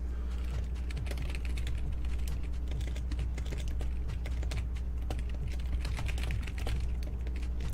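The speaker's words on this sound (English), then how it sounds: "it sounds like I'm just slamming on the keyboard, like I'm not actually typing" Typing on a computer keyboard: a fast, dense, irregular stream of clacking keystrokes over a steady low hum, close and continuous throughout, with no talking.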